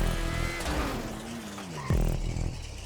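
Open-wheel race cars in GTA Online roar past with high revving engine whines, a sweeping pitch glide and a sudden louder pass near the end, engine noise dense throughout.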